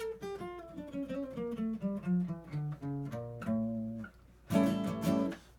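Guitar runs alone through a Phrygian dominant scale with a Spanish flavour, clean single notes stepping down at a moderate pace, followed by a brighter strummed chord near the end; fairly quiet and close.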